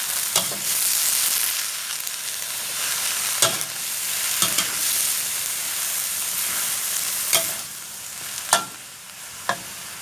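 Cabbage and three kinds of mushrooms are stir-fried in a hot pan: a continuous loud sizzle broken by several sharp scrapes and knocks of the spatula at irregular intervals.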